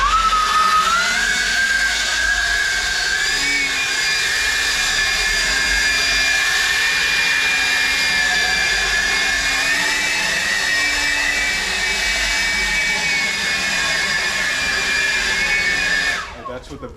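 A Seesii 40V cordless leaf blower runs in a driveway with a loud steady whine and rushing air. The pitch rises slightly partway through and the noise cuts off near the end.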